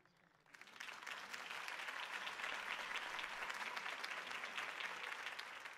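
A crowd in the Batman video game bursts into applause after Harvey Dent's campaign speech, with steady, dense clapping that swells quickly and holds at an even level, heard alone without talk.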